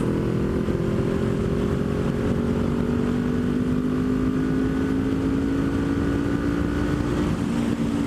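Kawasaki Ninja 400 motorcycle climbing a hill in sixth gear at wide open throttle, a steady droning engine note rising slowly in pitch over wind rush, loud and continuous throughout.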